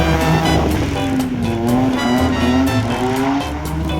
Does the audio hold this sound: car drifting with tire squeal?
yes